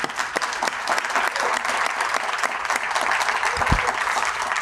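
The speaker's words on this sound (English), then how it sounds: "I really do think we owe a round of applause for Pat" Applause from an audience at an energy initiative's year-three final showcase, steady dense clapping filling the room throughout, with a brief low thump near the end.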